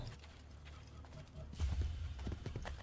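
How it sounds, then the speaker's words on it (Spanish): Horse hooves clopping at a gallop in Assassin's Creed Brotherhood, a rapid rhythmic thudding that grows louder midway and keeps going to the end, with game ambience underneath. "Caballo."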